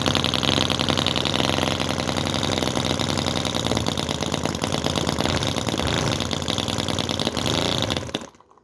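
A 9cc V-twin model engine runs close up with a loud, steady buzzing drone, then cuts out abruptly near the end as it runs out of fuel.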